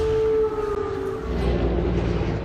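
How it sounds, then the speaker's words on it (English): Emergency air raid sirens in Kyiv during an attack, a steady sustained wailing tone that drifts slightly, heard at a distance over a broad rumble of background noise, with no voices. "as emergency air raid sirens wailed"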